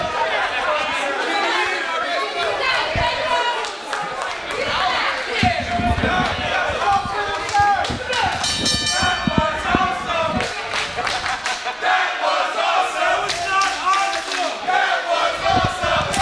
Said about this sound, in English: The crowd letting Flip know how they feel about him.